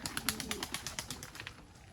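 A pigeon cooing in soft, rhythmic pulses, close by and fairly faint, repeating steadily over a low background hiss.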